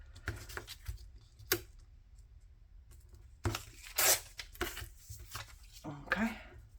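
Paper is ripped into pieces in several short, crisp tearing bursts separated by pauses. Soft handling noises and quiet talk run in between.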